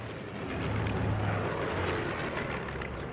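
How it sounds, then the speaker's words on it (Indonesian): Fighter jet roaring overhead in the video game Martha Is Dead, a loud, steady broadband rumble that swells slightly in the middle and holds for about three seconds, with no voices. "pesawat tempur ya"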